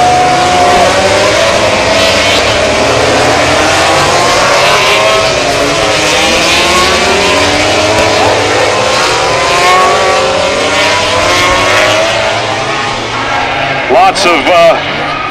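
MotoGP motorcycles racing at the 2010 U.S. Grand Prix at Laguna Seca, a loud continuous wall of high-revving engines with overlapping pitch sweeps as bikes pass, and a commentator talking over the roar.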